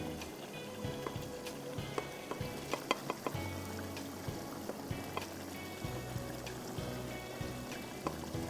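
Tomatoes frying face down in a karahi produce a quiet, continuous sizzle with scattered small clicks and taps of utensils, fairly close, under a low background hum.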